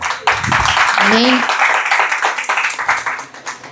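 A church congregation clapping in praise, a dense, continuous wash of applause heard under a preacher's voice calling out.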